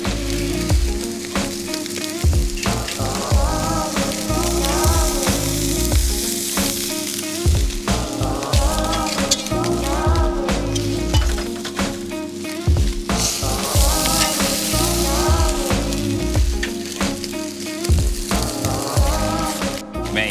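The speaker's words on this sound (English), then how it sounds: "I really like using a metal tray because I can flip my fish." Butterflied King George whiting frying on a metal tray held over an open fire, a loud, steady close-up sizzle and crackle with occasional spitting pops and scraping, continuous for about twenty seconds with no talking.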